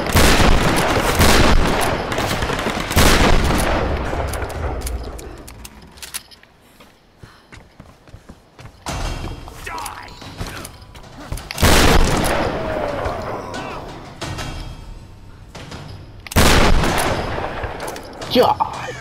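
Gunshots in a Tomb Raider: Definitive Edition shantytown fight: loud sharp bursts of fire with booming reports, broken by a quieter lull in the middle, while voices speak between the volleys.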